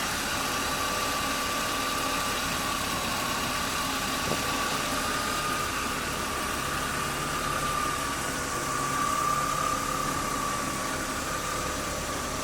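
A 1997 BMW 328i E36 idles quietly and steadily, a smooth continuous engine hum with a faint thin whine running through it throughout, with no talk over it.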